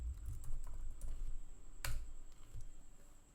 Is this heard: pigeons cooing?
no